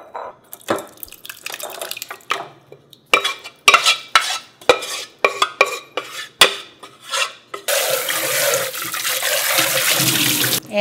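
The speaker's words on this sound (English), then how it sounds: "Add more water like this." Cold water poured into a bowl of mashed red beans, with skins, during yanggaeng preparation, preceded by a series of sharp stirring and scraping clinks, then a steady, close splashing pour.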